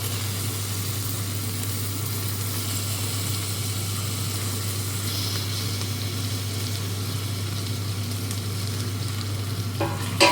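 Tomatoes sizzle and fry in a pan for egg biryani, a steady close hiss with faint stirring over a low constant hum, and no talk.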